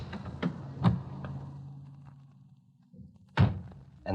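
A car door thunks shut a few times, with a couple of sharp slams and lighter taps between them, close by and with no talking.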